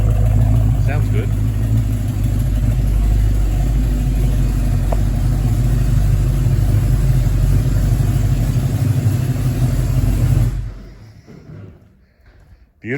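A Ford P5 LTD's engine runs steadily and fairly close, a smooth low idle hum that holds for about ten seconds before cutting out abruptly into near silence, with brief faint noise at the very end.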